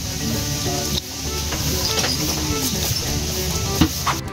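Small tilapia fish frying in hot oil at a picnic, giving a steady, fairly loud sizzle and hiss with occasional light clatter and popping throughout.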